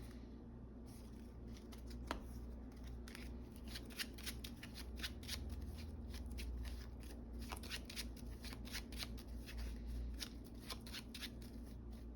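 A deck of Marvel Champions cards being shuffled up close, a steady run of crisp riffling and flicking bursts repeating through the stretch with no one talking.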